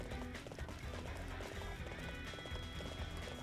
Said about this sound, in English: this is the one time I am going to intentionally call my horse